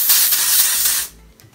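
Hairspray sprays in one close, loud, continuous aerosol hiss of about a second, then cuts off abruptly into quiet.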